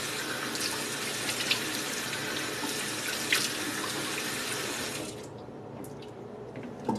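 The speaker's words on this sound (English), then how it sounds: "you begin rinsing with that warm water" Warm tap water runs steadily into a bathroom sink for a face rinse, a close, continuous hiss with soft splashing. It cuts to a quieter, thinner trickle near the end, with no voices.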